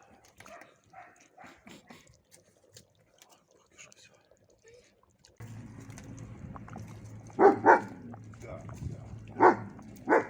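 A dog barks a few times, nearby and sharp, over a low hum and soft background noises; quiet whispering-like sounds come earlier.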